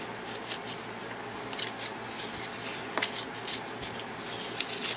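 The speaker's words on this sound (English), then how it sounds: "I'm just trying to bend this paper so that it will" Folded double-layer paper is being bent by hand for a craft coffee mug, giving soft, close crinkling and rustling with a few sharper crackles, heard alone at low level.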